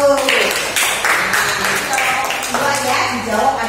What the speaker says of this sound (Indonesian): kita tepuk tangan untuk kelompok 1